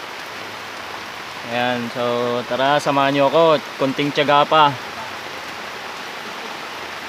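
Steady heavy rain hisses throughout, a broad constant wash of falling water, while someone talks over it for several seconds in the middle.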